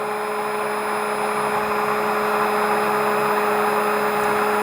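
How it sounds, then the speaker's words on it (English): A strong kitchen blender runs continuously, producing a loud, unbroken motor whine and whir with no pauses or talk. "my blender is just so strong that it's sucking everything to the bottom."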